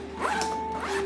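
A zipper on a chest bag slides open or shut in one quick, close, rasping pull, heard alone.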